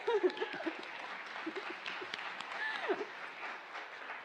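A crowd at a college literary and arts magazine event claps and applauds steadily, a dense patter of hands with a few voices and cheers mixed in.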